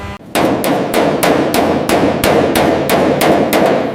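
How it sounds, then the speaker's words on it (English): A planishing hammer pounds body metal during the restoration of a 1925 Bugatti T35, a loud, rapid, evenly spaced series of about ten sharp metallic hits, close and with no talking. "You have to use the planishing hammer very lightly,"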